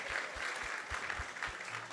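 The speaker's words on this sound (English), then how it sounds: "So let's give a big round of applause to everyone who has joined us tonight" Audience applause at an ISKCON Sunday Feast gathering, a steady wash of clapping filling the room without pause for about two seconds, with faint low thumps underneath.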